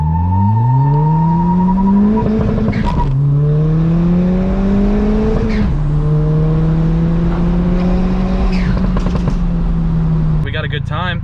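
Hybrid turbo widebody Ford Fiesta ST accelerating hard from 0 to 60, the loud engine note climbing steeply through each gear, with brief breaks at the shifts and a turbo whoosh near the end.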